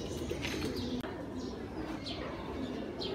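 Pigeons coo softly and repeatedly at close range over a steady background hiss, with a few faint chirps mixed in.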